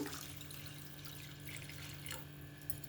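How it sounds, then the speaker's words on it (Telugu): Water runs steadily into a cooking pot for vegetable soup, a continuous splashing stream with a faint electrical hum underneath. "ఇప్పుడు ఇందులో వాటర్ పోస్తున్నాను."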